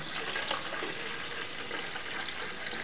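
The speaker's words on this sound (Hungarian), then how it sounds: "És ezután fölöntjük vízzel" Water is poured steadily into a 1.2-litre container, a continuous close gushing splash that holds an even level throughout with no speech.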